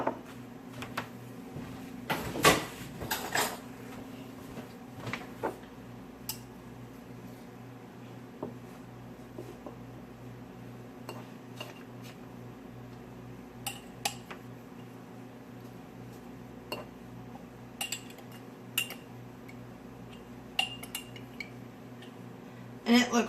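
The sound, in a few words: spoon clinking while mixing plantain salve ingredients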